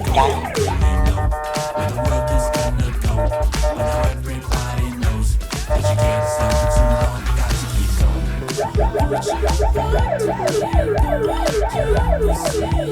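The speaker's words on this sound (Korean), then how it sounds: "경적을 계속 울리고 사이렌까지 울리면서 많이 시끄럽게 하더라고요" Loud wailing siren from a private tow truck close behind a car at a stop line in South Korea, cycling up and down, mixed with repeated blaring horn blasts over low traffic rumble.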